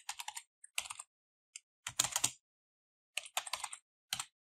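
Computer keyboard typing in short clustered bursts of clicks separated by pauses, close and clear with no talking, while code is entered for a JavaScript analog clock.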